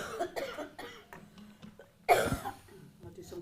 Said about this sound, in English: I'll do some coughing down it.